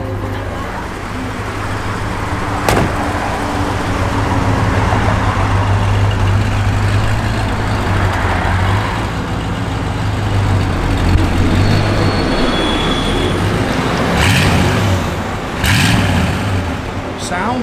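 A 1962 Chevrolet Nova convertible engine runs at a steady idle close by, a continuous low rumble with a few sharp clicks and brief mechanical noises over it.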